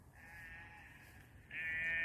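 Goats and sheep bleat across a field at dusk, cattle also present in open countryside; two long, sustained nearby bleats, the second louder, with no talking.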